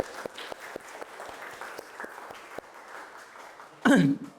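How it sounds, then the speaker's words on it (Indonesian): A university class claps for a student, a scattering of distinct hand claps at a moderate distance, ending in a brief louder burst with a voice. "tepuk tangan."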